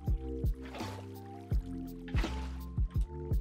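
Water placed and flowing in a Minecraft Stoneblock 3 modpack world: repeated sharp dripping and placing clicks at an irregular rhythm, with two short splashy gurgles of running water between them, fairly near and alone.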